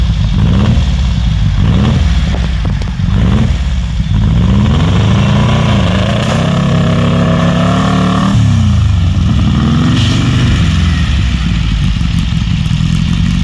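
A 1969 hot rod Baja Bug engine revs hard while driving through dirt in a yard, loud and close, its pitch rising and falling through repeated throttle surges with rattling clatter underneath.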